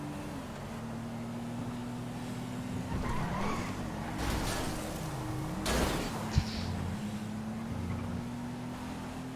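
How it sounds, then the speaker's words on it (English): Cars in GTA V driving close behind, a steady engine drone with shifting pitch as vehicles pass and swerve, plus a faint knock near the end. "There's cars right behind me."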